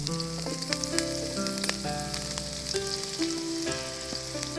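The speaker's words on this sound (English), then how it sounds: "Now add your oil to the hot pan. Dump in your onions and let them cook for a minute or 2." Onions frying in hot oil in a pan, giving a steady, close sizzle throughout, with occasional clinks and stirring scrapes and no talking.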